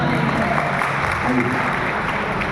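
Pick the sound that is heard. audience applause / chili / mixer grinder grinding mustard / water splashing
audience applause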